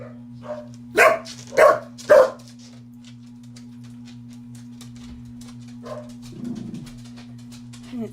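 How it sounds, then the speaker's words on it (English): Dogs give three sharp, close barks in quick succession, then fall quiet except for a few fainter yelps, over a steady low electrical hum. "I'm almost betting that the dogs are barking because my parents are here"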